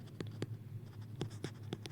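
Marker or chalk strokes on a lecture board during a statistics class, faint and close, coming as short scratchy bursts separated by brief pauses.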